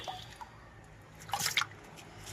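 Water poured into a cooking pot in a home kitchen, a short splashing burst of liquid in the middle of the clip over quiet room background, with occasional light drips before it.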